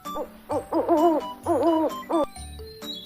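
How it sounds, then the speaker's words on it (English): A cartoon owl hoots in a series of short, wavering tonal calls with pauses between them, clear and close, accompanied by light chimes and sparkling sound effects. "The owl says,"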